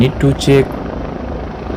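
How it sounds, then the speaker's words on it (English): A helicopter landing, its steady rotor throb running beneath someone speaking briefly at the start. "he will see the chopper, he will inform to radio room about chopper going to land"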